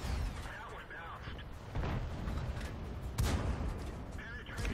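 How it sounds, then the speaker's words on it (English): Tank cannon fire in World of Tanks, with heavy booming shots landing amid a dense battle rumble while a player talks over it. "So let's start shooting here."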